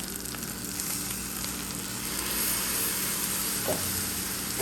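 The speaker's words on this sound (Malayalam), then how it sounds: "നമ്മൾ അരച്ച് വെച്ചേക്കുന്ന അരപ്പ് ഇതിനകത്തേക്ക് ഒഴിച്ചു കൊടുക്കാം" Thick ground coconut paste poured into a pan of Kerala potato curry, setting off a steady, close sizzle and bubbling that holds evenly throughout with no talk.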